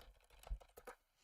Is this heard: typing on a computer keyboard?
yes